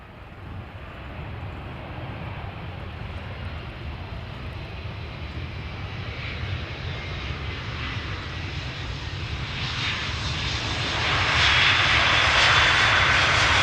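An airliner departs Amsterdam Schiphol Airport with a broad, steady jet-engine roar that swells louder toward the end as the aircraft draws nearer.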